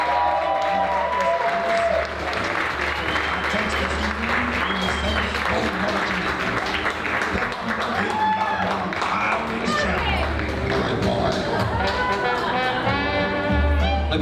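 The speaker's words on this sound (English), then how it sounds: "make some noise for Debbie Nambiaparabil and Joe Pedroza." Wedding reception guests applaud and cheer steadily through the whole stretch, a dense crowd of clapping with scattered whoops under an announcer calling out couples over the sound system.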